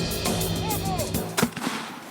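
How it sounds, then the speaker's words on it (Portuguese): Grenades and rubber bullet shots go off during a training exercise; a sharp, loud burst cracks out near the middle over a steady noisy background, followed by a smaller report. "Granadas são lançadas e tiros de bala de borracha disparados o tempo todo."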